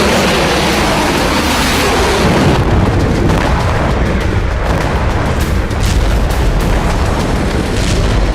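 Drone strikes on Russian oil refineries, heard as a loud, sustained roar of blasts and rumbling explosions with a dense, noisy wash and no talking.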